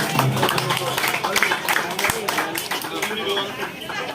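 Residents applaud a volunteer at a community meeting about a waste-management bylaw, where many hands make a dense, loud patter of clapping mixed with lively chatter and voices from the crowd.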